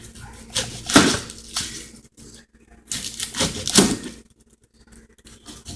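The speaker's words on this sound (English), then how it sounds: "I'm not no pro with chopping up veggies" A knife chops vegetables such as bell pepper and onion on a cutting board in two quick bursts of crisp, rapid taps, each lasting about a second, close by with quiet gaps between.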